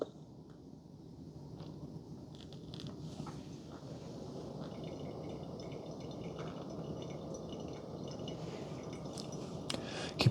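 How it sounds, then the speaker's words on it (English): Hot water trickles steadily and softly over ground coffee in a Hario V60 size 01 pour-over dripper, a faint, continuous pour without talk. "Now we can pour our water."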